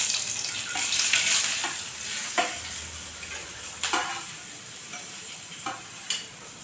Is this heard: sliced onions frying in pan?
yes